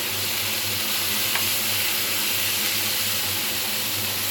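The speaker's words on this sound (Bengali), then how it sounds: "এবার দিয়ে দেবো কাঁচা লঙ্কা বাটা খুব ভালোভাবে কিন্তু ভেজে নেব" Green chili paste frying in oil left from frying fish makes a steady, dense sizzle and hiss, unbroken and fairly loud, with a low hum beneath it.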